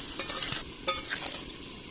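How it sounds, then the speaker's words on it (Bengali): Sugar stirred in a pan to make syrup for ash gourd morabba, heard as a few short, close scraping strokes with a faint sizzle, followed by a quieter pause. "চিনির মধ্যে এইরকম নাড়তে থাকবো কিছু সময়"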